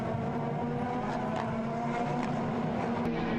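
Prototype race cars at Motorland in a nine-hour endurance race, a steady blend of engine drone and passing cars that stays continuous and fairly loud, with no braking or acceleration surges standing out.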